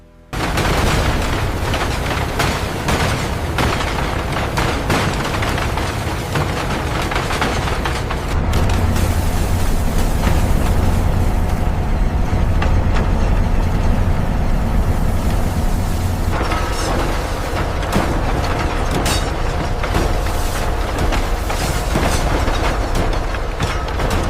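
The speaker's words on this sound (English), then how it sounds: "It is fired into the rolling mill to be squeezed into its final shape." A steel rolling mill squeezes hot, soft recycled bus steel through grooved rollers into beams: a loud, continuous industrial roar with rumbling, clanking rolls and surges in intensity throughout.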